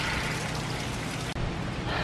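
Soft, steady patter of light drizzle as Hurricane Irma passes, a continuous hiss of fine drops with no voices.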